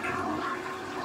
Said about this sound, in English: And then we'll flush it.